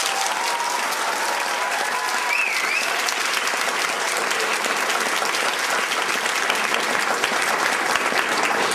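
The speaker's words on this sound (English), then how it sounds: "so let's give her another round of applause." Sustained audience applause at a concert honoring a musician, dense steady clapping from a crowd filling the space throughout, with a faint brief voice early on.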